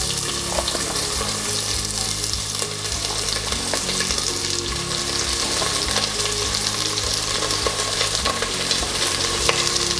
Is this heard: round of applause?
no